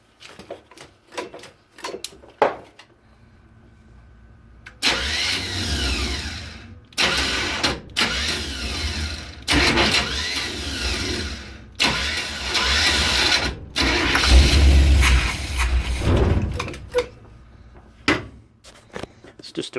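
An old camper van engine is cranked in repeated long bursts of starter churning with rough sputtering catches, loud and close, separated by pauses and clunks.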